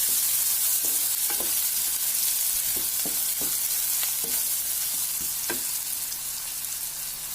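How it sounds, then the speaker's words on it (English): Onions fry in a pan while being stirred, giving a steady, close sizzle with scattered spoon scrapes and clicks against the pan, and no voices. "And give it a good stir."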